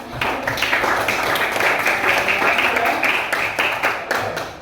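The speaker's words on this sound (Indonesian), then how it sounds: "Kita tepuk tangan dulu anak-anak." Children clap together in a classroom, a dense, steady patter of many small hands that carries on evenly for several seconds with no talk over it.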